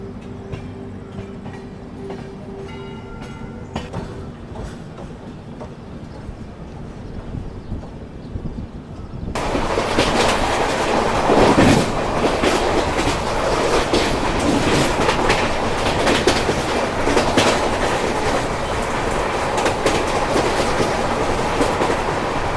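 The Gondwana Express rolls along the rails, first a quieter cabin rumble with faint rhythmic clicks, then suddenly a loud, broad roar of wheels and rushing air that persists, with no talking.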